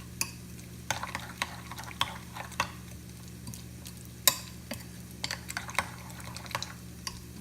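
A spoon stirs fresh pico de gallo in a bowl, giving scattered soft scrapes and clinks at an uneven rhythm over a steady low hum, close by with no talking.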